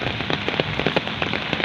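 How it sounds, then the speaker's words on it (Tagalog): Heavy rain pours steadily during a storm, a dense close hiss with scattered sharper drop impacts spattering on a nearby surface throughout. "Lakas ng ulan, bagyo."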